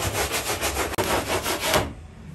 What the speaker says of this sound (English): I use a sanding block there because it doesn't chew the foam out around the stringers